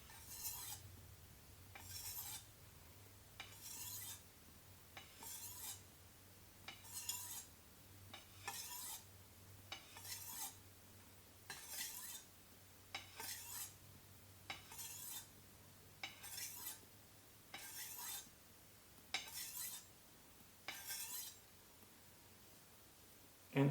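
Kitchen knife stroked along a whetstone from heel to tip, giving about a dozen evenly spaced rasping scrapes, each a second or so long with short pauses between, close and fairly quiet.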